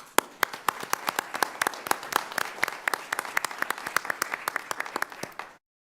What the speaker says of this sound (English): I wanted to give you a round of applause for Measure O.